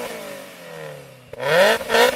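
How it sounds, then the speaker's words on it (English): A Mazda Roadster NC fitted with a Rotrex centrifugal supercharger idles, then revs sharply twice in quick succession, each rise loud and close, with no whine and no talking. "Now you're going to hear the Mark III, it uses a centrifugal supercharger, I think it's by Rotrex, and they don't make the whining sound"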